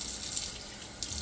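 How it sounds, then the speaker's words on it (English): Tap water runs steadily into a sink for rinsing, a continuous close hiss of flowing water with a brief louder splash near the end and no talking. "Put it in the water and you can rinse it."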